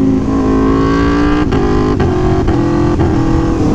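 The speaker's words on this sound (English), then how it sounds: "when you use it, it blips the throttle for you." An Aprilia motorcycle's autoblipper blipping the throttle on each downshift, a loud close engine drone broken by four quick, evenly spaced rev blips.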